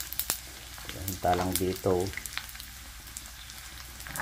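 Chicken fries in hot cooking oil with a steady close crackling sizzle, while a person speaks briefly over it.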